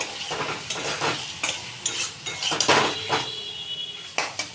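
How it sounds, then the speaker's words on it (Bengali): Fried loitta fish is stirred into spicy masala in a pan, with close metallic spatula scrapes and clinks against the pan over a light sizzle, loud and uneven. "মাছগুলো কিন্তু আমি এতে সবটা দিয়ে দিলাম এটাকে ভালো করে নেড়ে চেড়ে মশলার সাথে মিশিয়ে নেব"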